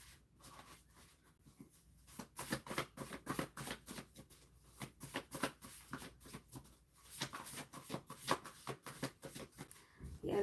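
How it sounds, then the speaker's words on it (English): A deck of playing cards shuffled by hand, mostly left-handed, in quick irregular riffles and soft flicking bursts, close and quiet, with pauses between. "I need less cards in my hand because I'm trying to shuffle with the left hand"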